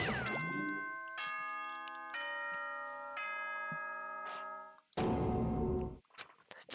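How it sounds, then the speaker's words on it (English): A short Danganronpa video game chime rings out, its sustained bell-like tones layered in several stepped notes, with a noisy burst of game sound cutting in near the end. "That chime just now."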